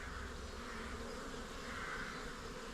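Honey bees hum and buzz steadily from an opened hive during an inspection after winter, a dense continuous drone that stays close and even throughout with no talking.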